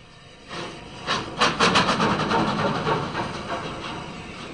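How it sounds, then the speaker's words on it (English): Unrebuilt Bulleid Pacific steam locomotive 34015 Exmouth backing down, with loud rhythmic chuffs and hissing steam building over a few seconds, then a steady rumbling exhaust that fades slightly. "34015 Exmouth backs down, ready to take out a westbound service."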